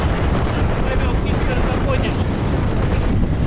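Strong, cold wind buffets the microphone in a constant, loud, rushing roar with no break, in Mongolia.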